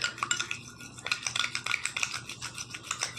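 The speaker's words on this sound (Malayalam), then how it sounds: "നല്ലപോലെ ഇളക്കി ഒരു ക്രീം പരുവത്തിലേക്ക് നമുക്കിവിടെ എത്തിക്കണം കേട്ടോ" Curd being stirred briskly into a creamy face paste, a quick run of soft scraping and clicking strokes against the bowl, close and faint, with no talking.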